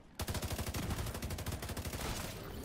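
Gunfire in the video game The Division 2: a rapid automatic burst of evenly spaced shots, loud and close, continuing for over two seconds without pause.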